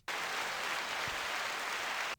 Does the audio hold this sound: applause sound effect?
yes